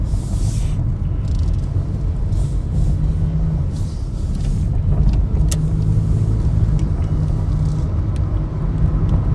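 Car interior while driving for food deliveries: a steady low engine and road rumble continues throughout, loud and close, with no talking.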